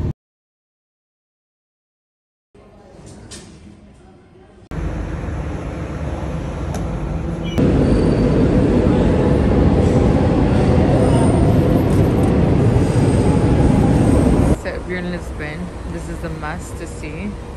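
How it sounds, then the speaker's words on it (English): A yellow tram passing through a European city street in Portugal gives a loud, steady rumble that builds after a quiet start, holds for several seconds, then eases back into lighter street noise. "To see this cute tram, which is yellow, among like the European architecture, so pretty."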